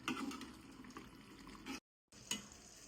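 Chicken pieces simmer in their own water in a pot for rajula kodi pulav, a soft, uneven bubbling with light stirring clinks, broken by a brief silent gap.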